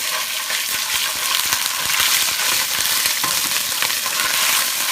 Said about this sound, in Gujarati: હવે એને આપણે ફાઇન રીતે હલાવી નાખશું.